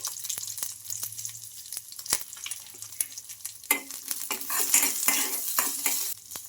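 Garlic cloves and cumin seeds fry in hot oil while a spoon stirs and scrapes the pan, a steady close sizzle broken by sharp clinks of utensil on metal, growing busier toward the end.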